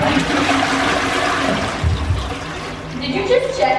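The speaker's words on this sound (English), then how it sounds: "Flush it." A household toilet flushes nearby with a loud rushing swirl that drains down into trickling water, while voices talk over it.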